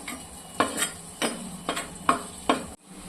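Onions fry with salt in a clay pot for chicken biryani, a soft steady sizzle broken by about five sharp scraping stir strokes at regular intervals, close by, ending abruptly.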